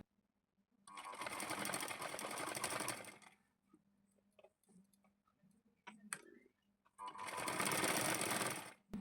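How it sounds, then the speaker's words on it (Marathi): Sewing machine stitching cloth along the edge for a double-layer kite, running in two steady mechanical bursts separated by a quiet pause with small clicks and handling noises, close and clear. "अशा पद्धतीने कडेपर्यंत शिलाई मारून घेणार आहोत."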